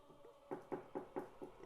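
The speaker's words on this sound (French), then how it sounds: "on va arriver au moment où on entend les toc toc toc" During a paranormal investigation, a series of about five evenly spaced knocks sounds clearly and fairly close, each a sharp, hollow rap about a quarter second apart, with no voices.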